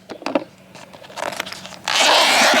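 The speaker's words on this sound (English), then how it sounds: "So it's got this zip pouch in the back." A zipper on the back pouch of a folding solar panel is pulled open, with a few soft handling scrapes before a loud, steady close zip rasp near the end.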